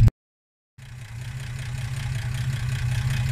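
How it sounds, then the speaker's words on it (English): A car engine idles steadily with a standard exhaust note, a low, even rumble that starts after a short silence and holds on its own with no talk. "She's got a nice little note sitting there. It's pretty much standard exhaust."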